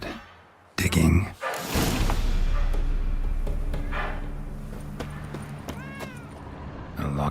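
A cat meows a few times in The Witcher 3: Hearts of Stone, short mid-pitched mewing calls heard amid footsteps, a thud and ambient game sounds, with someone talking over parts of it.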